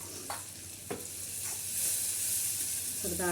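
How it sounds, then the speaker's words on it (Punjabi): Chopped tomatoes and green chillies fry in a pan over a village clay stove. They give a steady, close sizzling hiss with a few soft stirring scrapes, and no voices. "ਹੁਣ ਪਾ ਦਾਂਗੇ ਆਪਾਂ ਇਹ ਚ ਕੱਟੇ ਟਮਾਟਰ ਤੇ ਹਰੀਆਂ ਮਿਰਚਾਂ"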